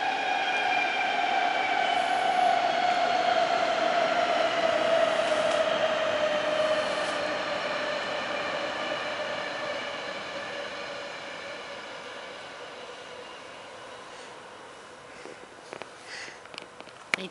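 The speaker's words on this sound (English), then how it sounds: "The BART train?" A BART train passes, a loud, tonal rumble with a descending whine that fades steadily over about fifteen seconds as it recedes into the distance, leaving faint background sounds.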